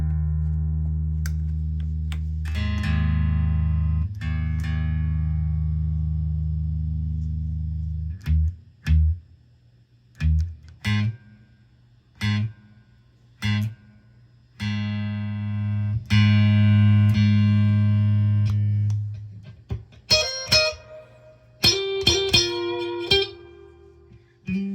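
An electric guitar plays through a Marshall DSL 40C amp on its clean channel, ringing chords and notes with long sustain, broken up by short picked phrases and brief pauses, with no talking.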